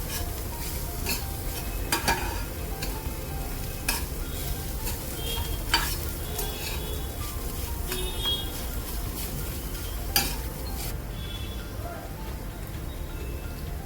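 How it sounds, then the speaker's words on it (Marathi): Cauliflower filling for gobi paratha sautéing in a pan with thecha, a steady sizzle under repeated spatula scrapes and clinks against the pan, close and continuous. "तोही मस्तपैकी परतवून घ्यायचा या ठेच्यामध्ये"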